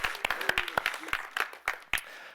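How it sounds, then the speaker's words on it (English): A sparse, fairly quiet round of applause comes from a small audience at a tech conference talk, with individual claps standing out irregularly rather than blending into a steady roar. "So just give him an applause for helping me."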